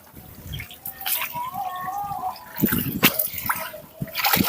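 Water sloshed and swirled by hand in a catfish sorting tank, giving close splashes and gurgles in irregular bursts, with a faint voice in the background.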